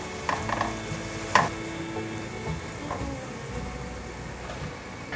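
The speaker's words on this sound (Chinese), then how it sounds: "接着把马铃薯放进来炸。 也让它这样子慢慢的炸成焦黄色" Potato pieces frying in oil in a pan give a soft, steady sizzle at low level, with a few light clinks and stirring knocks near the start.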